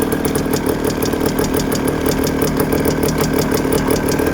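A Honda MT250 Elsinore motorcycle engine idles on choke, a loud, close, rapid and even mechanical beat that holds steady throughout.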